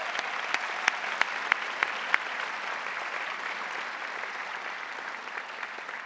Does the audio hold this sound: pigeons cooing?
no